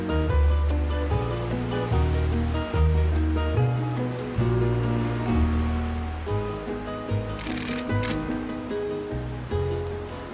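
Waves breaking on the wild shore of Poposo in northern Chile, loud rolling surf that rises and falls in repeated surges, with no talking.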